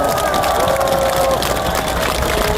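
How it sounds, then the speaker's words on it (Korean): Crowd at an outdoor political rally near Geumneung Station applauding and cheering, a dense, steady wash of clapping and voices filling the whole stretch, with a sustained tone running through it. "박수 드립니다."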